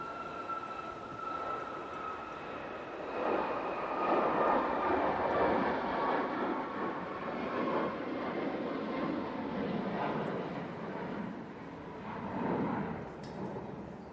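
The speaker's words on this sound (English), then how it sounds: "It's off to Ibiza, 737 MAX 8 for Ryanair." A Ryanair Boeing 737 MAX 8 jet bound for Ibiza takes off in a broad, sustained engine roar at moderate distance, swelling and easing over fourteen seconds.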